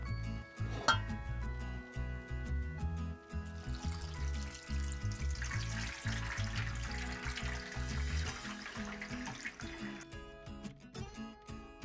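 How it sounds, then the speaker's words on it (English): Clean cold water poured over boiled pasta in the kitchen, a soft splashing, trickling flow through the middle of the clip, heard faintly over quiet background music. "you can choose to put in cold water, clean cold water, to help it cool quickly"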